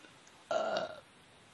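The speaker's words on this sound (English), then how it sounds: "Sorry for my burping, guys." A single short burp from a man during Minecraft play, a voiced half-second belch that rises abruptly and fades, close to the mic against a quiet background.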